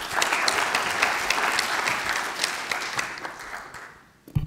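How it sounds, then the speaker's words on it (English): An audit conference audience gives a loud, dense round of applause that holds steady and then fades out, followed by a brief noise at the end. "Give him an applause."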